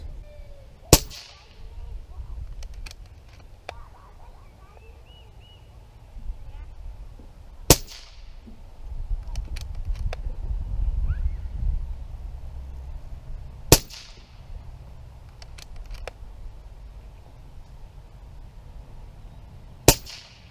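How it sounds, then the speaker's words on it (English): An Umarex Origin .22 air rifle fires Crosman Premier 14.3-grain pellets, giving sharp, loud single cracks spaced several seconds apart, four shots in all, over a low background rumble and faint incidental noise. "This is going to be a 10-shot string with the Crossman Premiers."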